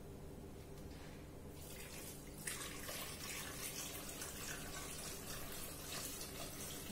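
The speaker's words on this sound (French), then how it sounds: "Je vais mettre à peu près 600 grammes d'eau à 700 grammes." Water pours steadily from a tap into a pot for cooking calf's feet with chickpeas and raisins, a continuous rushing splash that grows louder and brighter midway and keeps running, quiet and close with no talk.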